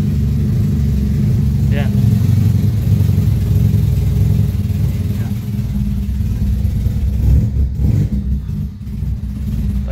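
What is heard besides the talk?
1992 Honda EG car engine starting and misfiring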